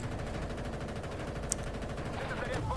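Rapid machine-gun fire from the mounted gun on an Abrams tank in Battlefield Bad Company 2, a steady fast rattle of repeated shots running the whole time, loud and close, with a sharp crack partway through and a faint voice under it.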